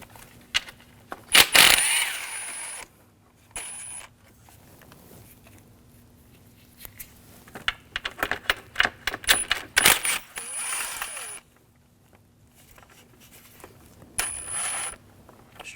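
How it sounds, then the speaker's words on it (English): Metallic ratcheting and clinking from an 11mm socket removing intake nuts on a 2007-2013 BMW 328i with the 3.0L inline-six, coming in irregular close bursts separated by quiet pauses. "We're going to use an 11mm socket. Just going to remove the nuts first."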